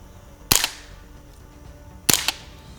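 Two sharp suppressed rimfire rifle shots, each a crisp snapping crack with a short tail, spaced about a second and a half apart against quiet background.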